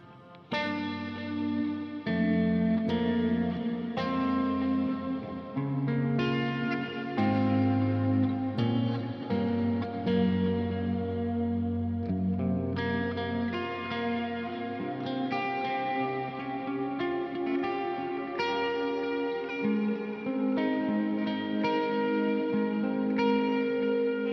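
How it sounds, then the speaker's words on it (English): Electric guitar played through a Strifecta effects loop for a heavy tone, sustained distorted chords and notes ringing with echo and reverb, loud and continuous with no talking. "Strifecta again is the effects loop."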